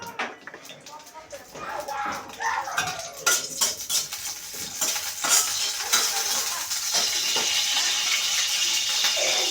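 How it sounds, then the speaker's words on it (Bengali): Dried red chillies crackle and sizzle in a little oil in a pan, with scrapes and clinks of a metal spatula against the pan, building into a steady frying hiss. "শুকনো মরিচের মধ্যে কিছুটা তেল দিয়ে দিব। তেল দিয়ে শুকনো মরিচটাকে টেলে নেব।"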